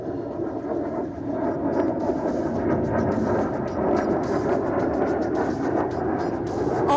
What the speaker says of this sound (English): The lead aircraft is in a steady dive.